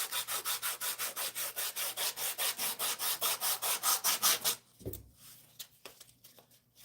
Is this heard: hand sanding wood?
yes